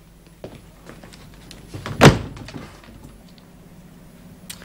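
A door opens or closes with a single firm thunk midway through a TV drama scene, set against quiet room tone with faint incidental movement around it.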